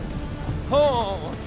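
Steady rain hisses across the whole scene in The Witcher 3. A man's short exclamation rises over the downpour partway through.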